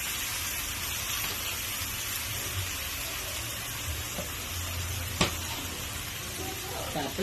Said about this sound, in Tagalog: kumukulo na po yung talbos kong kamote